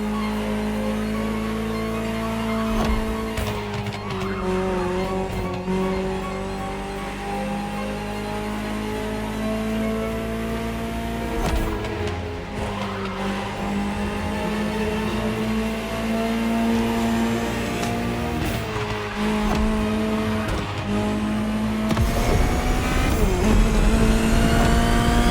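A Ferrari supercar driving in The Crew Motorfest racing game, its engine revving steadily with rising and falling pitch as it shifts gears, loud and continuous throughout.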